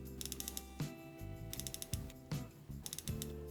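Ratchet of a Swiss mechanical watch movement clicking as the mainspring is wound by hand: crisp, close, rapid bursts of fine metallic clicks in repeated winding strokes, with no talking.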